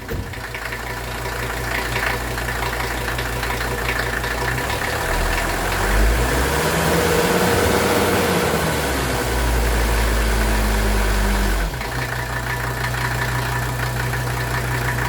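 A Mercedes 300D diesel engine idles after start-up with a steady, close clatter, its pitch briefly rising and falling in the middle before settling back to a constant idle.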